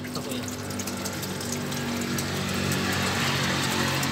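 Diesel draining out of a Mitsubishi L300 during a transmission oil change, a steady splashing, rushing pour that holds constant and swells slightly toward the end.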